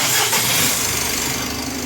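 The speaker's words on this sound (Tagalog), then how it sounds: "Pa-start ko nga muna itong makina" A Mitsubishi L300 Euro4 diesel engine turns over and catches, settling into a close, loud rumbling idle in a workshop setting.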